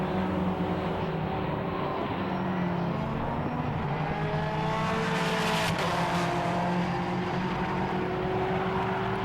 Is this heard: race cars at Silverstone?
yes